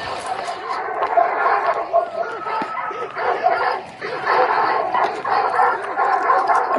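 Dogs barking and yapping in a Call of Duty zombies-style game, with repeated bow-wow barks layered over a busy, noisy game soundscape while someone talks.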